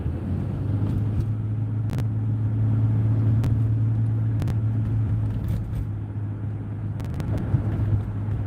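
A salt truck drives by on a 40-degree morning, a steady low rumble that holds close and loud for several seconds, with a few brief clicks over the top.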